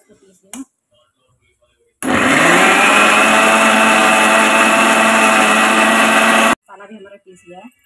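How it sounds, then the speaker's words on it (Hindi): A mixer grinder blends raw coconut and spices for palak paneer, a loud, steady motor whine lasting about four seconds that starts and stops abruptly, with brief kitchen sounds before and after. "मैं इसमें कच्चा नारियल भी डालूंगी और मैं इसे पीसूंगी"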